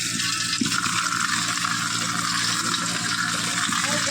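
Drumstick (moringa) leaves being washed in water, a steady loud rush and slosh of water filling and swirling throughout, close and continuous.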